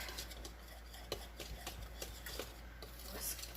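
A whisk stirring manicotti filling in a bowl, a quiet run of quick, light scraping taps with soft ticks against the sides, faint and close.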